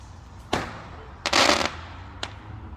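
Fireworks exploding outside on Bonfire Night: three sharp bangs, the middle one a longer crackling burst, loud and fairly near over a low background rumble.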